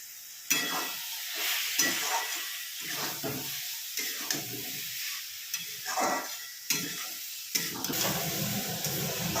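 Garam masala and sugar being sautéed in a pan, a hissing sizzle punctuated by repeated, uneven scraping stirs of a spatula, close and fairly loud, with no talking.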